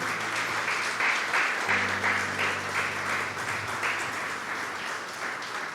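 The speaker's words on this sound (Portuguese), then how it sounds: "Aplauda Jesus então" Congregation applauding during a church sermon, sustained rhythmic clapping from many hands filling the room, steady and moderately loud throughout with a faint low hum underneath and no speech.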